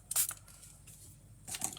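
A water spray bottle mists watercolour Zig marker ink on paper in two short hissing bursts, close and quiet, separated by a brief pause.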